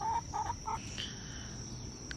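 Hens in a backyard coop give a few short, quiet clucks early on, then fall silent under a faint steady background hum.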